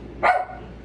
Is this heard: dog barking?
yes